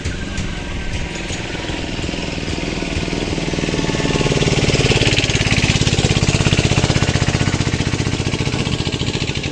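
A fishing trawler's engine runs close by with a loud, steady low chugging that swells slightly midway, with no talk over it.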